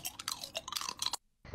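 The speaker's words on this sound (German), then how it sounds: "mach deinen Mund zu beim Kauen" Loud open-mouth chewing heard up close in a meme, with wet, crunchy smacking bursts that run for about a second, break off into brief silence, then resume.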